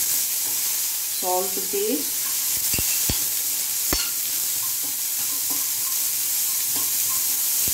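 Cooked chickpeas for Kothu Kadalai frying in a pan, a steady broadband sizzle running throughout with a few sharp utensil scrapes and clicks, and a voice speaking briefly over it.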